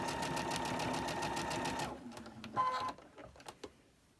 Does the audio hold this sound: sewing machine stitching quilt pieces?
yes